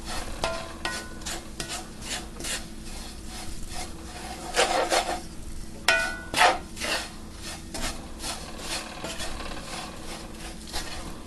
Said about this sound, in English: kind of flip it over and get the bottom on the top so that all of that coconut gets beautifully brown